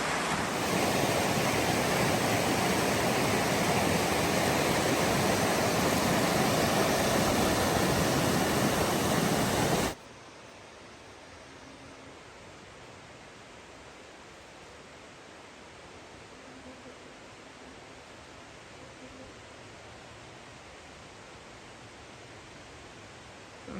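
Deep Creek, a stream in the Great Smoky Mountains, sends up a constant rush of flowing water. It is loud and close for the first ten seconds, then drops abruptly to a softer, more distant steady hiss.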